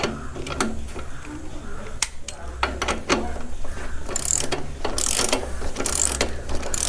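Spanner ratcheting on the 30 mm chain adjuster nuts of a Royal Enfield Bullet, with bursts of sharp mechanical clicks close by and light talk in the background.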